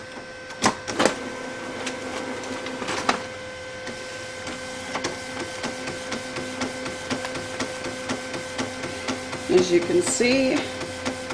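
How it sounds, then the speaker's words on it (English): Epson WorkForce 7110 printer running through a print job, with mechanical clicks and thumps, a steady motor whine and carriage movement, fairly quiet and close, with a person speaking briefly early on. "So now I'm going to go ahead and send it to the print. And here's my printer with my setup."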